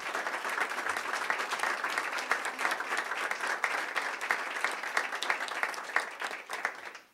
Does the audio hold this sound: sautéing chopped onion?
no